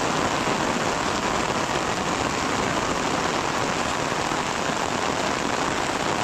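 Heavy rain pours down in a dense, steady hiss, loud and unbroken throughout, with no voices.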